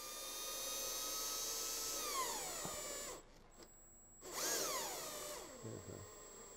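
A cordless power driver screws a component into a TOX Tri all-purpose dowel in plasterboard. It whines at high pitch as the motor slows under load, then cuts off briefly before a second burst of driving. No one speaks.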